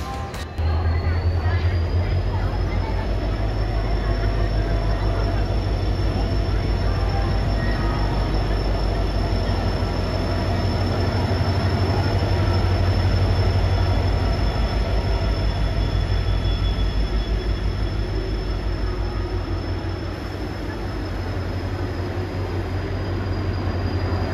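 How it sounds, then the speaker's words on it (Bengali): The 12857 Tamralipta Express rolls into Howrah station with a heavy continuous rumble of wheels and carriages and a long high metallic squeal from the wheels, loud and close throughout over faint platform babble. "অবশেষে নির্ধারিত সময়ের একটু দেরিতে তাম্রলিপ্ত এক্সপ্রেসের দেখা মিলল।"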